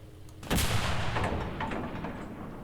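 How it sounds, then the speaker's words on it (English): A tank cannon fires in the WW2 game Enlisted: one sharp, heavy blast followed by a long rumbling decay, loud and close with no talk. "we're going to have to fire again because we have a anti-infantry loaded"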